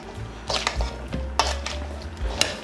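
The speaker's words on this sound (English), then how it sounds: "And then we're going to stir those up." Diced tomatoes, cucumbers and onion stirred in a bowl with a spoon, a few separate scraping clinks and wet squishing strokes close by, with no talk.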